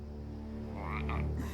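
A cartoon frog croaks once in Avatar: The Last Airbender, a short, low, throaty call rising out of a steady background hum, brief and moderately close.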